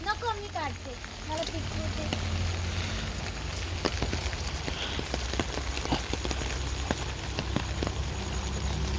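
Steady rainfall makes a dense, even patter with scattered sharper drop taps throughout, as people talk nearby.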